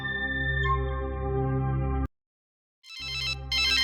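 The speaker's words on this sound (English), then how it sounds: "Somewhere, a telephone was ringing." A telephone rings with a steady electronic tone that cuts off into brief silence, then starts again with bright, rapid trilling bursts.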